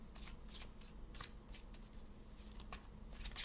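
Tarot cards are shuffled quietly by hand in a series of soft, brief riffling bursts with short pauses between them, close and gentle with no talking.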